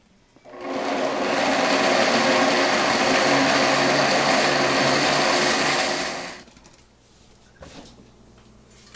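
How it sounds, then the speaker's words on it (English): A blender grinding soaked soybeans with hot water into a paste, a loud, steady motor whir that starts abruptly, runs for about six seconds, then cuts off, leaving quiet handling noises. "Then I'm just going to grind it up to a paste."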